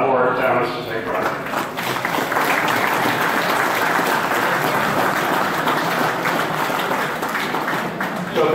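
Sustained crowd applause at the 10th annual Comber Motorbike Show in 2018, a dense, steady wash of many hands clapping close and loud for the whole stretch, with no one speaking over it.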